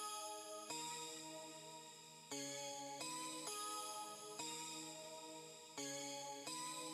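Plucky keys-style synth from the Celestial Serum bank plays a repeating chord progression, sustained bright layered notes changing every second or so, steady and loud on its own.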